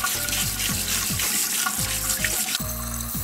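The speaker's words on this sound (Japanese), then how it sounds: "これもね、水洗いしちゃいます、" Tap water runs steadily over a remote control circuit board, splashing and gurgling as the board is rinsed in a sink, close and loud with no talk.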